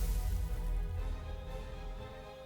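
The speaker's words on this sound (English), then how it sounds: "It's raining." Steady rain pouring in a magic fantasy video game featuring a girl and her fox, a continuous broadband hiss with a low rumble, fairly loud and unbroken throughout, with no voices.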